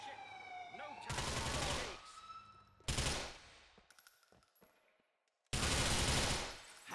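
Bursts of automatic gunfire in the video game GTA 4, loud close volleys separated by gaps, with sirens and game sounds in the background and a voice talking.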